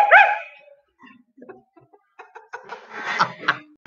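A dog gives a sharp bark right at the start, then a scatter of faint yips and rustling noises follows, close to the microphone and without any talk.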